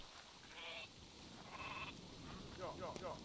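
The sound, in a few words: sheep bleating in the video game Northgard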